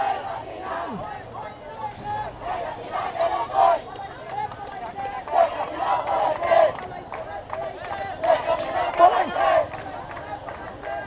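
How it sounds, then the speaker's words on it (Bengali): A celebratory procession crowd in front of Shaheed Minar, Dhaka, chanting slogans in loud, rhythmic surges of many voices in unison, with short pauses between the shouted phrases. "এই স্লোগান দিয়ে এখনও কিন্তু ঢাকা শহীদ মিনারের সামনে মানুষজন মিছিল করতেছে"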